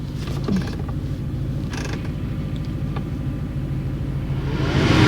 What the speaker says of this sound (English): I like the wipers going both ways.